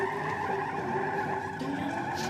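A Ford Focus and a Toyota Hilux race at a drag strip, a steady loud roar of engines and tire noise heard from a distance with no talking.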